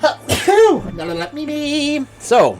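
A person sneezes once, loud and close, right between stretches of casual conversation.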